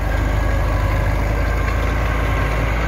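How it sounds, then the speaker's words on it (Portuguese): A tractor engine idles steadily while spreading earth on a worksite, a loud, continuous low rumble with no pauses, close by and with no voices over it. "O trator aí, ó. Espalhando a terra"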